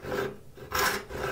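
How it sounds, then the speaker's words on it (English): A 5 PPI rip handsaw tears through wood in two close, rasping strokes with a short pause between, loud and ragged, no voices. "5 PPI rip handsaw. It will leave a fairly ragged cut, but that's okay."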